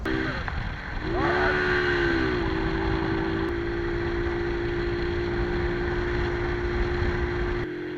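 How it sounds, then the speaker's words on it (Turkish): A 125cc motorcycle engine hums steadily while riding, with a short rise in pitch near the start and then a sustained even drone mixed with wind noise, up close and continuous. "Evet arkadaşlar motor 125'lik."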